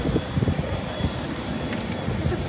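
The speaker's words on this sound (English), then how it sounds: "It's a small airplane." A small airplane's engine drones at a distance at Hakodate Airport, a faint, steady hum under scattered background voices and crowd noise from an observation deck.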